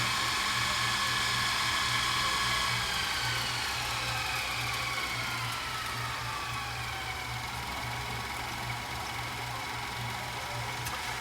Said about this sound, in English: It's one of these hyperdrive machines that rewind the tape back in like less than a minute.